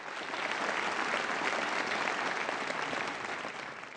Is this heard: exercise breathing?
no